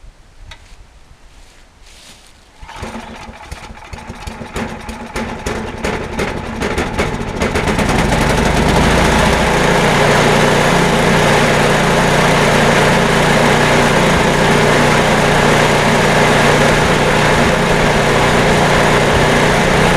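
An MTD snow blower engine, just repaired, is pulled and then catches, running loud and steady in a continuous near roar after a few seconds of rattling start-up.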